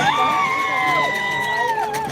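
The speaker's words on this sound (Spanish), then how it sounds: "Y ahí están las porras." A carnival parade crowd in Calnali in the Huasteca region cheering and shouting together, with sustained overlapping voices and whoops under an amplified announcer's voice.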